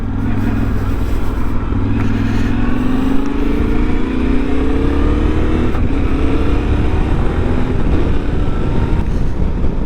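A 2024 Yamaha Tenere 700 adventure motorcycle engine revs and climbs in pitch, a steady throaty drone rising as it accelerates, close and loud with wind noise.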